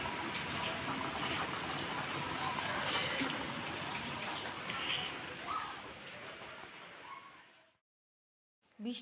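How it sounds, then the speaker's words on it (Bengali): Rain falling on a home balcony where water has collected, a steady dense hiss of drops running for about seven seconds before cutting to silence, then a brief noise at the end. "দেখো এখনো বৃষ্টি পড়ছে।"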